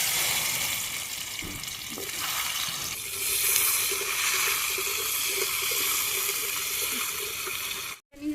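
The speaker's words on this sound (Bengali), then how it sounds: "এই যে কচু ধুয়ে রাখছিলাম পরিষ্কার করে, এগুলো দিয়ে" Washed taro pieces going into hot oil tempered with bay leaf, dried chili and cumin in a pan on a clay stove, a loud continuous sizzle with some watery hiss and a short break near the end.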